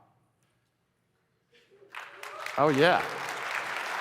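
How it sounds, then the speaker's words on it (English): Audience at a tech company keynote breaking into applause and cheering after near silence, swelling quickly into loud sustained clapping, with a voice calling out over it. "Admins are allowed to cheer, you can do that."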